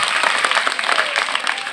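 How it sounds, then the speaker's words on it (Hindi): A group of children claps loudly together, a dense, near burst of many overlapping hand claps that keeps going at an even strength. "एक बार जोरदार ताली बजाओ"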